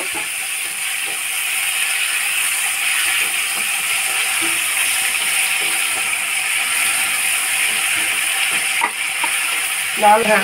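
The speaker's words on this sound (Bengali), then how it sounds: "এবারে চিংড়ি মাছগুলোকে ভেজে নিচ্ছি।" Prawns fry in hot oil in a pan, giving a steady loud sizzle and crackle with occasional scraping and clinks from a stirring utensil toward the end.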